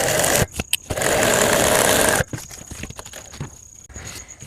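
A sewing machine runs up a strap for a child's school bag in one loud, continuous burst of about two seconds after a few short taps, then gives way to quieter handling and shuffling.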